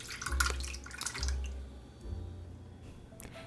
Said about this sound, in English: Add 1 cup of coconut milk into the mix.